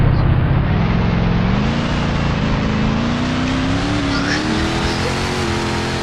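A Koenigsegg Agera RS supercar engine in the Dealership Simulator video game revs steadily upward, its pitch climbing in a loud, continuous drone with no pauses.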